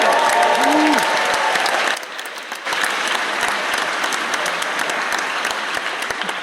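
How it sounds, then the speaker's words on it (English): A theatre audience at a cinema screening claps together in a full, steady round of applause that dips briefly and then continues strong to the end, with a voice heard near the start. "Can you give him a round of applause?"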